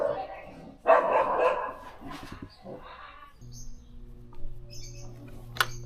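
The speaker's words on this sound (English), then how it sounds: "Oh my god, the dogs." Dogs bark in the background while a BMW R1100GS motorcycle battery is being replaced, a cluster of sharp barks and yips early on, then fainter scattered barks with birds chirping and a low steady hum, talk heard alongside.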